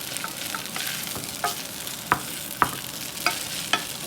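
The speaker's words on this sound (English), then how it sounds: "just stir frequently on a low heat" Noodles stir-frying over low heat with a steady sizzle, broken by several sharp scrapes and clicks of the utensil against the pan as they are stirred.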